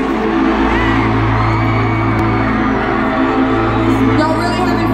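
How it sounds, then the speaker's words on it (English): A concert crowd at a show in Cleveland screams and cheers in one dense, loud, continuous roar that holds steady throughout. "has a lot of screams"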